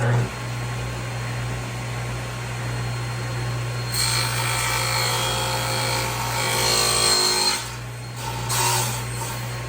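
A handsaw rasps through the limbs of a take-down recurve bow, cutting a quarter inch off along a marked line, with a steady broadband sawing noise that grows louder midway under a constant low hum.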